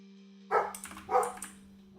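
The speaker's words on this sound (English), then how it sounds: "My neighbor's dog." A neighbor's dog barks twice, muffled and somewhat distant, over a steady low electrical hum, with a faint third yip at the end.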